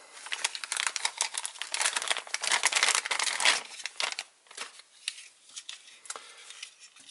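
Plastic wrapping crinkles and rustles close up as a Futaba DLPH-1 device is unboxed, loud crackling bursts that thin out into scattered softer crinkles.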